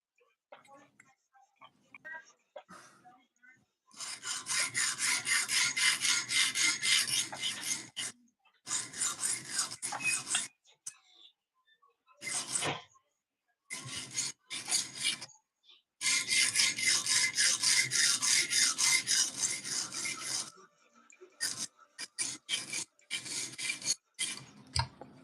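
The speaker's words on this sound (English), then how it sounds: "Now you start just sharpening like normal," A knife is scraped back and forth across a sharpening stone in long rhythmic bursts with short strokes and pauses between them.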